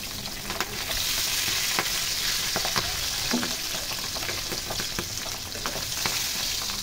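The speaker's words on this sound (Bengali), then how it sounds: "এখন এই গরম তেলে পাবদা মাছগুলো এক এক করে দিয়ে ভেজে নেব।" Pabda fish fry one by one in hot oil in a frying pan on a stove. A dense, steady sizzle runs throughout, peppered with sharp crackles and spits, close up with no voices.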